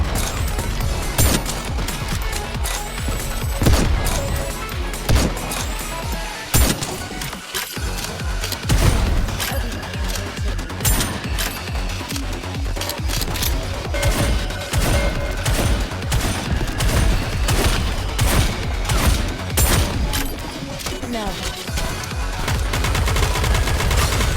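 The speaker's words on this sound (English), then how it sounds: "Commence bombardment." Relentless gunfire bombardment in the video game Goddess of Victory: Nikke, dense rapid automatic shots and heavy impacts layered over game music, loud and continuous with brief breaks in intensity.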